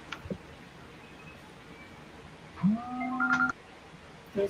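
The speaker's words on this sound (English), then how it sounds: "That's my hourly timer reminding me to get up and move around." An hourly timer reminder goes off indoors with a few short electronic beeps and a brief tone sequence, over quiet room noise and with no talking.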